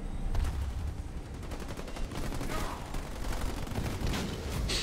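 Dense continuous gunfire from ground troops in the Halo Wars 2 strategy game, overlapping rapid shots and bursts, loud and steady throughout.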